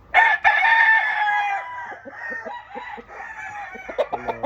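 A young rooster (stag) gives one loud, drawn-out crow close by, then follows with a run of short, soft clucks and a few sharper calls at the end.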